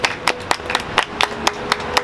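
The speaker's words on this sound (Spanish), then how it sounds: "Un aplauso." Applause at a fairy-tale-style marriage proposal: a small group claps in loose, separate bursts, each clap crisp and fairly close, spaced unevenly over two seconds with no voices.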